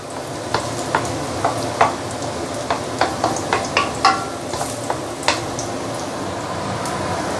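Garlic and onion sizzle steadily in a hot pan for fried rice, with a spatula tapping and scraping through the oil in an uneven rhythm of light clicks, close and fairly loud, no talk.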